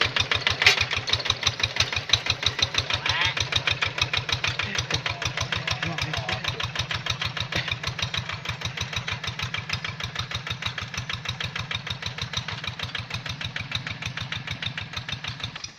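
A Quick Boxer 1000 hand tractor with a Kubota R2S engine idles close by, a steady fast chugging beat that runs unbroken and evenly throughout.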